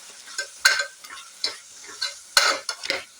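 Tomato and potato sautéing in a pan for potato and egg gravy, a faint soft sizzle punctuated by intermittent spatula scrapes and clinks, quiet and close.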